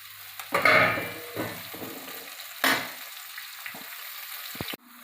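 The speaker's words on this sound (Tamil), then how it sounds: "தக்காளி பழம் சேர்த்துக்கிறேன் கருவேப்பிலை சேர்த்துக்கிட்டேன்" Tomatoes and curry leaves hit a hot pan with a loud burst of frying that fades, followed by another sharp sizzle and light stirring scrapes before a sudden stop.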